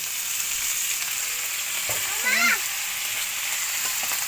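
Squid sizzles steadily in a hot pan with onion and garlic for adobo, a constant close frying hiss with a brief voice rising over it midway.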